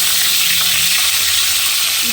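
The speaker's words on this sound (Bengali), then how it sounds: "উচ্ছেটা আমি নুন আর হলুদ দিয়ে ভেজে নেব" Bitter gourd fries in mustard oil with salt and turmeric, giving a steady, dense sizzle with a faint low hum beneath it, continuous and close.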